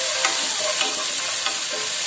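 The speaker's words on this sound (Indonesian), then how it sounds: "Ini kita tumis sampai tomatnya ini menjadi" Tomatoes sauté for a spinach and oyster sauce stir-fry, a constant close sizzle with a few soft spatula scrapes.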